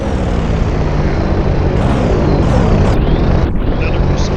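Propeller drone of a de Havilland Mosquito aircraft passing overhead in the submarine game UBOAT, a steady loud engine roar that rises and shifts in pitch as it flies by, with no talk.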